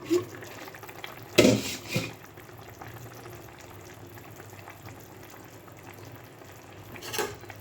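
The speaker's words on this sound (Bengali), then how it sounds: "হিটটা বাড়িয়ে দেব যতক্ষণ না ঝোলটা ফুটে ওঠে" Thin fish curry gravy for tangra fish with onion greens heats toward a boil in a pan after water is added, giving a steady low bubbling hiss, with a short burst of stirring and utensil clatter early on.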